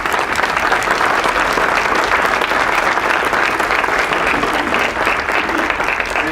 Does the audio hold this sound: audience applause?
yes